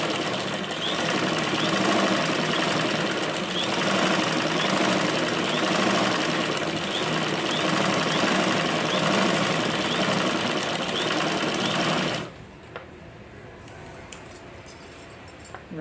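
A sewing machine runs in a long, steady, fast stitching burst while sewing a blouse lining, close and loud, then stops abruptly, leaving quiet room tone with a few small clicks.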